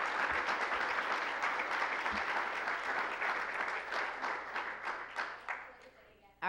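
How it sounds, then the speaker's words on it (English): Audience gives a sustained round of applause for guest speakers at a Peace Corps event, dense clapping filling the room and gradually thinning out toward the end. "We can give them a round of applause, please."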